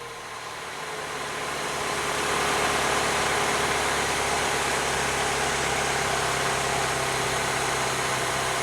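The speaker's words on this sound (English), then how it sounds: "fire it up and let it run for about 30 seconds" A car engine idles steadily right after an oil change, a close, continuous low hum and vibration that swells slightly in the first two seconds and then holds even, with no talking.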